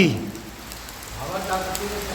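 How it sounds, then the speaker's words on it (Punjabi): Steady early-morning rain patters on surfaces in a continuous hiss as wind picks up, with a voice speaking briefly over it. "ਲਗਾਤਾਰ ਤੜਕੇ 5 ਵਜੇ ਦੀ ਹੋ ਰਹੀ ਆ ਬਰਸਾਤ"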